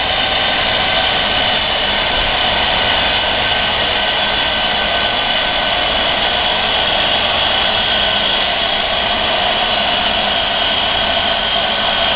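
A small air compressor runs with a steady, loud, continuous hiss and whir, powering a pneumatic cylinder meant to lift a competition robot, with no speech over it.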